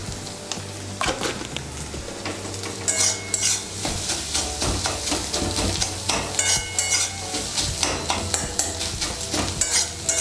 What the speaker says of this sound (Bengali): হলুদের গুঁড়োটাকে ভালো করে মিশিয়ে নিয়ে আমি ডিম আর পেঁয়াজটাকে আরেকটু ভেজে নেব।